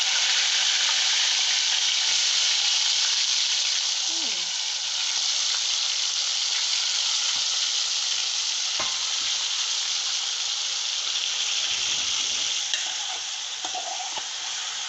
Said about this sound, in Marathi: ह्या चिकनला या तेलावर चांगला परतून घ्यायचा